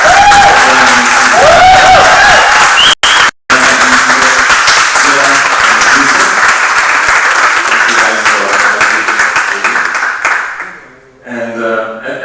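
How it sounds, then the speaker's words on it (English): Audience applause at an ESN Switzerland event in Lugano, a loud sustained wash of clapping from a large crowd that fades out near the end, with a voice briefly over it. "please applause."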